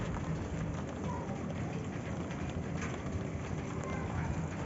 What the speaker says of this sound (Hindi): आप यकीन नहीं कर सकते, बारिश हो रही है